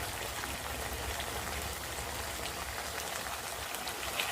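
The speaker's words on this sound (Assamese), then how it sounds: "এতিয়া ইয়াত অলপ গৰম পানী দিম" Hot water poured into a pan of fish for a fish curry, producing a continuous hissing, bubbling wash of sound that stays even and fairly loud throughout with no pauses.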